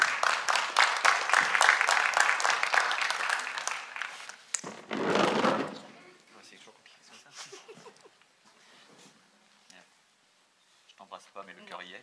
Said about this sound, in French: On peut les applaudir chacun.